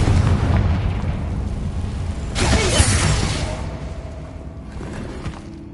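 A Confringo fire curse in the Hogwarts Legacy video game bursts with a sudden broad blast midway, over a steady low rumbling game backdrop that fades afterward.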